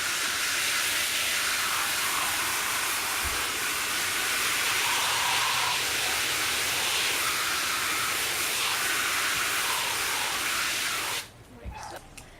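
Water spraying over the tops of western cinches during a rinse, a steady, loud hiss of running water that cuts off abruptly near the end.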